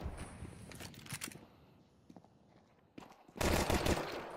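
Rapid gunfire crackles in a Counter-Strike pro match between MIBR and 9Z, with bursts near the start and a loud sustained volley at the end around quieter game ambience.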